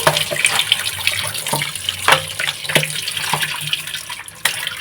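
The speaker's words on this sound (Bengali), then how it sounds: "মাছগুলো আমি এখানে বেছিয়ে ভালো করে ধুয়ে নিচ্ছি" Fish washed in a sink under a running tap, water streaming steadily with irregular splashes and clatters as the fish is handled, close by and without speech.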